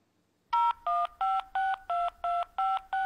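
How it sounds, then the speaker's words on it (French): Telephone keypad tones sound as a number is entered, eight evenly spaced crisp two-tone beeps following a brief silence, clear and alone. "Veuillez entrer votre numéro de sécurité sociale."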